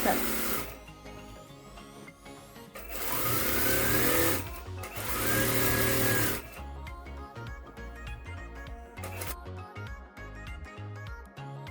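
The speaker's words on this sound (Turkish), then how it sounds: "Denemek için öncesinde bir dikiş diktim. Buradan tam yakınından dikiyorum." A sewing machine runs in short bursts while stitching a flared skirt, with a whirring motor and rapid needle chatter in two main runs, close by, and quieter handling noises between them.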